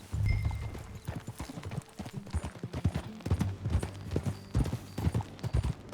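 Horse hooves clip-clop in a steady walking rhythm in Red Dead Redemption 2, close and fairly loud, with a few low voice-like tones and game ambience mixed in.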